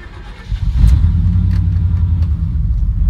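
A pickup truck engine turns over and settles into a steady, loud low rumble that idles on for the remaining few seconds, with no talk.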